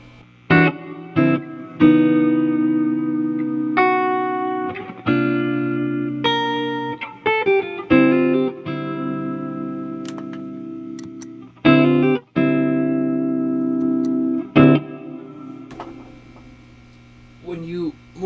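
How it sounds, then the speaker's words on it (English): Electric guitar played through a Walrus Audio Fathom reverb pedal with pitch modulation, sounding chords and single notes with long, shimmering, wavering reverb tails that ring continuously with a steady hum underneath. "not to mention that the reverb sound is super nice"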